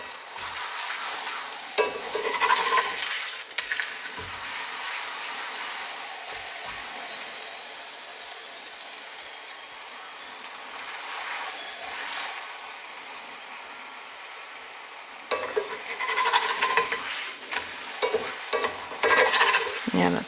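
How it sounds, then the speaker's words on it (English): Corn tortillas passed briefly through hot oil for flautas, giving a steady close sizzle and crackle that swells when each one is added or flipped, with bursts of louder frying near the start and end. "You're frying them or passing them through the oil to get soft."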